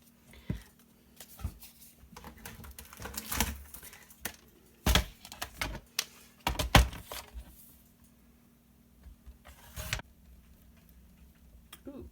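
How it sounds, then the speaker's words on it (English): Paper strips are snipped with scissors in a series of sharp, close clicks and crisp cuts, irregularly spaced with short pauses between bursts. "I think I will just cut some strips of paper"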